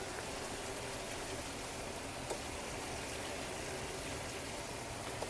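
Pasta water pours and sizzles into a pan of orecchiette with sausage and broccoli rabe, a steady hissing, bubbling wash of liquid close by with faint clicks.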